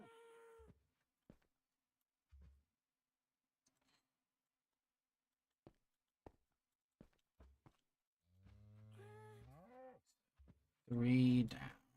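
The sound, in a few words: person imitating cat meowing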